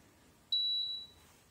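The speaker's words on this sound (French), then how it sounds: "elle s'est mise à biper, ça c'est normal" Klarstein mini tabletop dishwasher beeping after being plugged back in, a single clean high electronic beep lasting about half a second, close and alone over a quiet room.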